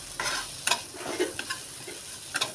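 A spoon stirs masala mix for bakery-style bread toast with coriander leaves and peas in a pan, giving soft scraping, clinking strokes over a light steady sizzle, close and fairly quiet.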